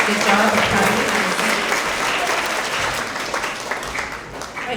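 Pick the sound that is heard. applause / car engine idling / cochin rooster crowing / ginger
applause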